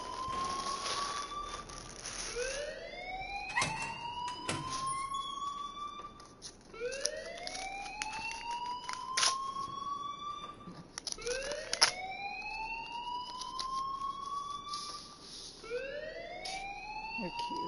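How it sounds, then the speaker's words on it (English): Fire alarm ringing in the video game Life is Strange, a repeating rising electronic whoop sweeping upward about every four seconds, steady and continuous with faint clicks and background game sounds. "please turn off that alarm since that's your job"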